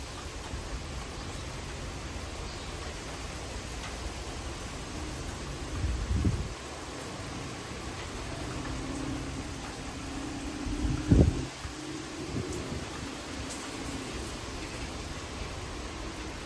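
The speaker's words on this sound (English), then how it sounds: "There's the wind blowing." Strong wind gusts during a thunderstorm in Frisco, Texas, roaring as a steady broadband rush with two louder buffeting bursts around the microphone.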